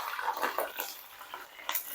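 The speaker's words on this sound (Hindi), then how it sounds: "तो ये चिकन हम इस ऑयल में डाल देंगे।" Chicken pieces of leg, thigh and neck hit hot oil for an Afghani chicken karahi, giving a steady close-up hiss and sizzle with a few crackling surges and no talking.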